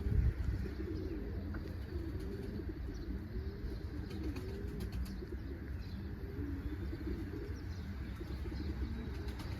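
Pigeons coo in a repeated, low rolling rhythm close by, with faint chirps and occasional wing flutters among the birds.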